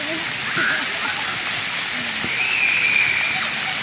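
Children showering outdoors, with running water giving a steady, hissing wash of splashing throughout and faint voices talking in the background.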